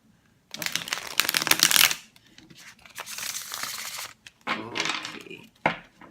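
Stiff tarot cards with gold trim are shuffled by hand, loud riffling and flapping in several close bursts separated by brief pauses.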